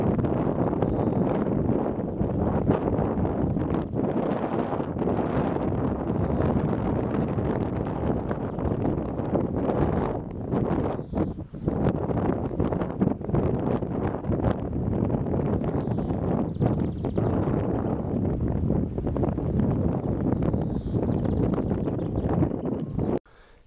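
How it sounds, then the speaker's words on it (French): Wind blows steadily outdoors, buffeting the microphone with continuous loud rumbling gusts for the whole stretch and no clear voices. "Il y a un peu de vent, donc vous pouvez mettre votre veste, hein, que ça souffle."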